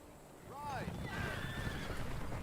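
Horses neigh in a fantasy real-time strategy game, a clear whinny with falling pitch over clip-clopping hooves, played against steady in-game battle noise.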